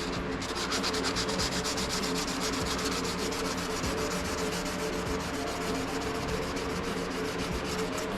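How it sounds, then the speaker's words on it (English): Fine 1500-grit sandpaper rubs a burr off the edge of an engine part being reassembled, a steady rapid back-and-forth scratching that continues without pause, close and clear. "you want to use nice fine sandpaper because that's going to ride against your cylinder wall"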